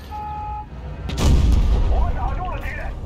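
A single booming tank cannon shot in World of Tanks Blitz, loud and close with a rumbling tail over engine noise, while a voice talks.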